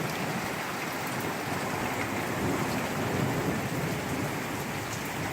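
A sudden heavy thunderstorm brings dense, steady rain in a constant loud hiss, with low rolling thunder rumbling beneath it.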